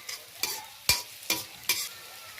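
Chopped onions and tomatoes sizzle in a pan while a spoon stirs them, making five sharp scraping strokes spaced about half a second apart over a soft, steady frying hiss, close up with no talking.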